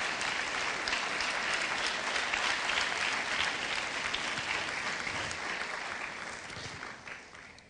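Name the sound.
congregation applause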